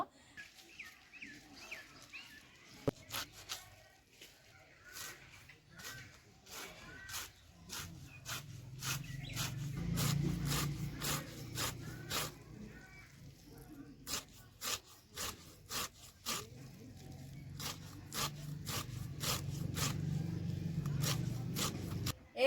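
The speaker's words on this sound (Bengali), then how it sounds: "লাল শাকটা আমি ছোট করে হেসেতে কেটে নিব" Red amaranth greens are cut finely against a fixed curved blade (hesho), a run of quick sharp slicing scrapes in uneven bursts, close up and fairly quiet over a soft low rustle.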